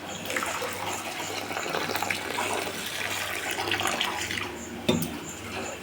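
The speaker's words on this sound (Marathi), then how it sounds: "ह्याच्यामध्ये पाणी टाकून स्वच्छ धुवून घेऊया." Moong dal being washed in water in a kitchen vessel, a continuous close swishing and splashing of running water with one louder splash near the end.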